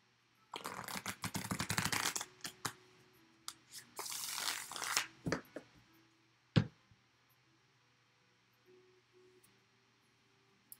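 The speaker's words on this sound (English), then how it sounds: "I got one more shuffle going for you here" Rapid riffling of a tarot card deck in several bursts, followed by a few single card snaps and taps, then near silence; close and crisp.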